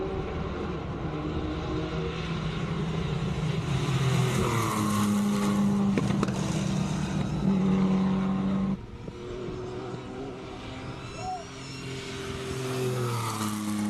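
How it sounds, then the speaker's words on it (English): A turbocharged AC Cobra launches at a classic car speed event in Cape Town, its engine building into a loud, rising roar, dropping briefly and then climbing again as it pulls away. "Turbocharged AC Cobra."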